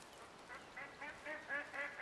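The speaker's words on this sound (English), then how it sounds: "Wild ducks over there." Wild ducks in the Way of the Hunter hunting video game give a run of repeated nasal quacks, moderately distant and fairly faint, with no talking.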